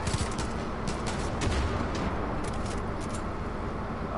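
Steady, dense gunfire from the video game Far Cry 5 runs without a break, loud and close, with no talking.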